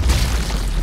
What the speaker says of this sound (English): head down there and plant explosives